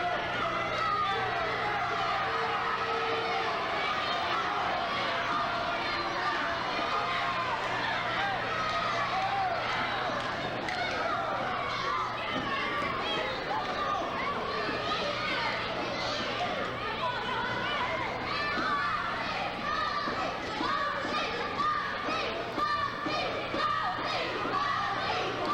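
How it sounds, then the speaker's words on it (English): A crowd at ringside during an indie wrestling match in Bainbridge chants for the wrestler Foxy Lady, a dense, lively mass of voices with rhythmic shouting that carries on throughout. "The crowd at ringside here in Bainbridge chanting Foxy, Foxy."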